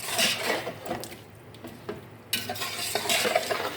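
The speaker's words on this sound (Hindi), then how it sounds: "अब हम इसमें शामिल करेंगे अपने चावल, चावलों को करेंगे मिक्स" Rice being stirred into potatoes fried for aloo pulao, a steady scraping stir over soft sizzling in the pan, with brief clinks of a utensil, close and alone without talk.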